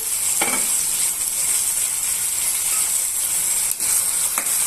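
Okra and carrot pieces fry with tomato pieces in a pan, giving a loud, steady sizzle throughout with faint scraping ticks of stirring now and then.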